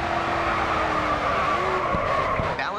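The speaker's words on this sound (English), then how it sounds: "Continue to turn and the back end will begin to slide out." A car drifts with its rear sliding out in the Grid 2 racing video game: a loud, continuous tire skid and squeal over a steady engine roar, close and sustained for the whole stretch.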